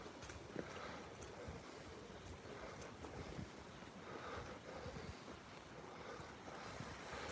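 Morning water at a lakeside: a steady wash of small waves lapping, mixed with wind rumble buffeting the microphone, continuous and moderately loud with no voices.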